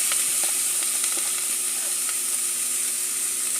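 Duck meat sizzles and fries in a hot pan, a constant bright hiss broken by small pops and the scrape of stirring, close and steady.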